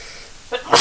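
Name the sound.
sneeze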